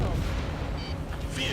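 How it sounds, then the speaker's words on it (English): A fighter jet fires a missile in Ace Combat 7: Skies Unknown, a dense whooshing launch burst over a constant roar of engine and battle noise, with a brief hiss trailing off near the end. "Spare 15, launching missile."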